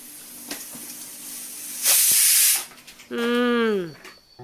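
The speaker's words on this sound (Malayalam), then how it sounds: "ഇത് എന്റേതല്ലടി, കുക്കർ അടിച്ചതാ സത്യമായിട്ട്" A pressure cooker's whistle lets off steam in a loud hissing blast, then a second, tonal whistle that slides downward in pitch as it fades.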